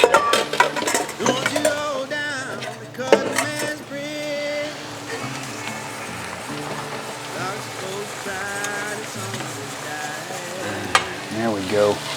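Sausage goes back into a gumbo pot and sizzles and fries steadily as it is stirred, with scraping against the pot under continuous music and occasional talk.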